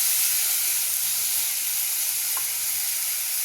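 Onion, ginger and garlic frying in oil for egg curry, a steady, loud, close sizzling hiss that continues without a break and with no talking.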